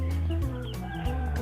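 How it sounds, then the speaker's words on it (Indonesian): Young Burmese Mangon chicks make soft, close clucking and chirping calls in a pen, a brief overlapping chatter of small bird voices. "Itu ada anak ayam mangon dari Burma, dari Birma"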